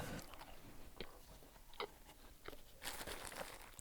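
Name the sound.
chewing Tim Hortons Timbits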